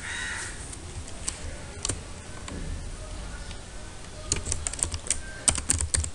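Rapid typing on a computer keyboard while writing a MySQL update query in PHP, steady clustered keystrokes up close with denser bursts toward the end, under a faint background hum.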